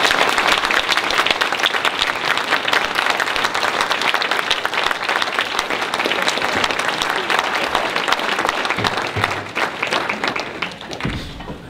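A crowd in the New Hampshire legislative chamber bursts into dense, sustained applause that holds at a steady loud level for the whole stretch before easing slightly at the end.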